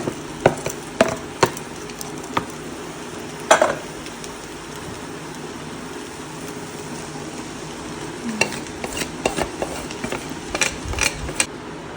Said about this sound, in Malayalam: നമ്മൾ ന്യൂഡിൽസ് ഇട്ട് കൊടുത്തു ഇനി നന്നായിട്ട് നമുക്കൊന്ന് ഇളക്കിയെടുക്കാം